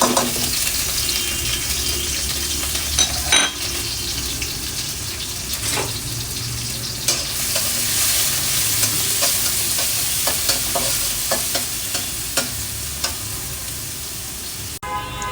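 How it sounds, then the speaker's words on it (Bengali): Onion, garlic and chillies fry in oil in a wok with a strong continuous sizzle and repeated scraping stirs of a spatula, close and loud throughout. "পেঁয়াজ মরিচের ভাজাটা যখন এমন একটু লালচে হয়ে যাবে"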